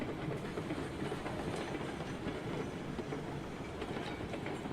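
Train cars rolling along the track in the railway video game Railroads Online, a steady close rumble with faint clickety-clack, continuous and without talk.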